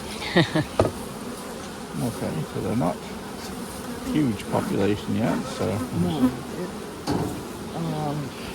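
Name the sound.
honey bees buzzing around a hive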